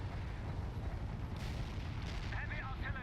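Heavy artillery bombardment in the strategy game World in Conflict, dense rumbling booms and blasts rolling continuously, with a voice speaking over the barrage.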